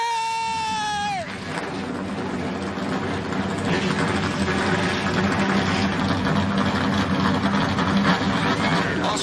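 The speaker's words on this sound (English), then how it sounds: "Drivers, start your engine!" Many NASCAR race truck engines rumble and drone together at the start of a Gander RV & Outdoors Truck Series race at Homestead, a dense, loud, continuous roar with crowd noise, following a brief voiced call at the start.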